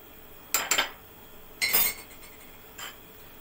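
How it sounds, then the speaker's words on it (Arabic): A spoon clinks against a cup while stirring cocoa and milk, three short bright clatters separated by quiet pauses, close and without talk. "هضيف معلقتين اللبن دول لمعلقتين الكاكاو واقلبهم"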